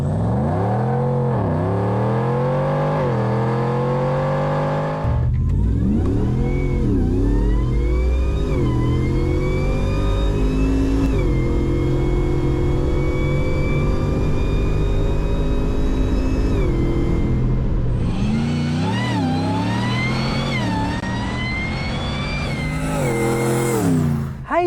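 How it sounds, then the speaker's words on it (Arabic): A supercharged V8 in a modified Nissan Patrol revs hard through repeated rising sweeps, its supercharger whining high above the deep engine roar, loud and close with no talk. "الصوت 8 سلندر، الصوت سوبر تشارج، الصوت ونين، صوت الونين طالع مليون"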